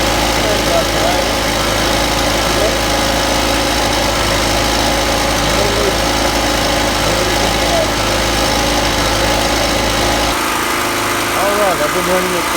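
A gasoline-powered generator runs steadily close by with a constant dense hum, freshly fitted with a replacement carburetor and treated with fuel stabilizer. The tone shifts noticeably near the end as the engine note changes, with faint voices in the background.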